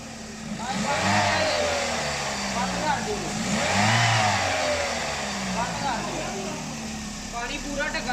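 A repaired 2005 Toyota Corolla engine, fixed after overheating, runs steadily at close range with a low mechanical drone that rises and falls slightly, while someone talks over it.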